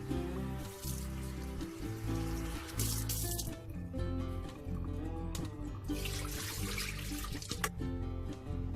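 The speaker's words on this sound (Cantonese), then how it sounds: "我哋首先咧就略為沖一沖水，嗰個水喉咧" Water runs from a tap in a steady stream, splashing gently as raw oysters are rinsed, with some faint background tones and no speech.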